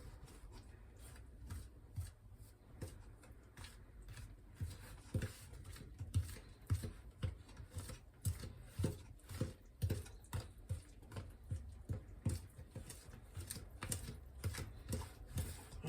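Brownie batter being stirred by hand in a bowl, a steady run of soft scraping and tapping strokes at close range with no talk over it.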